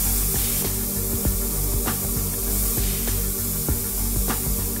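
An ultrasonic tooling cleaning unit runs in a heated wash tank, giving a steady, loud broadband hiss and hum with periodic sharp pulses recurring about every second, with no talking.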